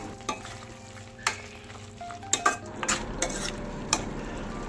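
A lotus stem curry is stirred in a pan: scraping spoon strokes and clinks over a soft, steady sizzle, with a few sharper taps against the metal.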